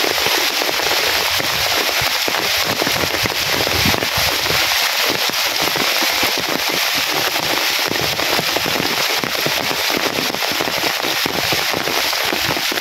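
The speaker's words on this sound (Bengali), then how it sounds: "জমছে বৃষ্টি।" Torrential rain falls without pause over a flooding village's low-lying land, a loud, even wash of hiss and patter that crackles throughout with no speech.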